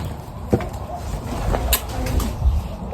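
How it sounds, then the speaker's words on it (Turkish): Soft, low cooing from a pigeon nearby, a few muffled calls amid light background noise and occasional knocks. "Güvercin. Çok tatlısın."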